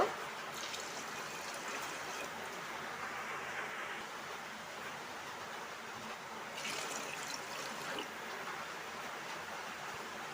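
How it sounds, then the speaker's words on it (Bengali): Water is poured into a pot of lentil dal mixed with turmeric and oil, a soft, steady trickling stream heard close and faint, continuing evenly for about ten seconds without talk. "এরপর কিছুটা পানি দিব"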